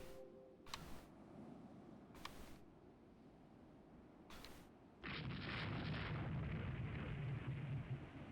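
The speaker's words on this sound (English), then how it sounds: "why did you take a torpedo hit?" A warship takes a torpedo hit in the naval strategy game Rule the Waves 2, with a few sharp cracks followed by a sudden loud, sustained roaring rumble that holds steady to the end.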